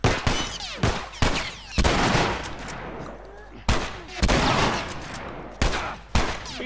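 Heavy shotgun blasts in The Last of Us video game, several loud booming shots spaced a second or two apart, each with a rolling echo, mixed with other in-game action noise.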